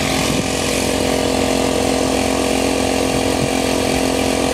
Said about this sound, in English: It's not a bad pump, this thing.